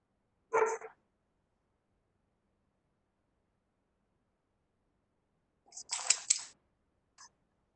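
A dog barks twice, close and sharp: one short bark, then after a long silence a louder, longer bark with a small yelp trailing it, during an online neighborhood meeting about a Dallas park.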